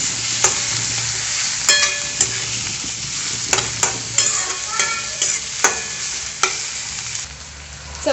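Tomatoes frying with sautéed onions in a pan, a loud steady sizzle with repeated sharp clicks and scrapes of a spoon stirring against the pan.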